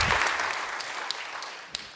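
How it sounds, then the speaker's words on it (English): An audience at a business talk applauds to welcome a speaker on stage, steady clapping that fades over two seconds with a few sharper individual claps near the end. "Please do give him a very big round of applause to welcome him on stage"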